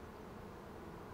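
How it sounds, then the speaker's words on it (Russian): Honeybees from a freshly caught swarm being hived, a steady dense buzzing hum that stays constant and close throughout the short moment, with no voices. "Сейчас пчелка успокоится чуть-чуть."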